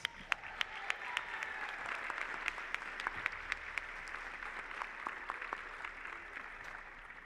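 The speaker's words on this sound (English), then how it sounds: "a big round of applause for the final winner, Elmer Gonzalez." A crowd applauds steadily for several seconds at an awards ceremony, a dense patter of clapping with a few sharp individual claps standing out, fading slightly toward the end.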